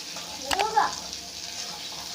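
Ginger-garlic paste hits hot oil with browned onions in a pan for Bengali chicken kosa, giving a brief burst of sizzle and stirring scrapes over a steady low frying hiss, close and moderately loud.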